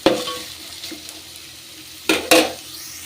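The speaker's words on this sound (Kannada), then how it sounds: "ಆನಿಯನ್ ಚೆನ್ನಾಗಿ ಫ್ರೈ ಆಗಬೇಕು." Onions frying in a pan give a soft steady sizzle, broken by a few scraping stirs and then two sharp clanks of a utensil against the pan near the end.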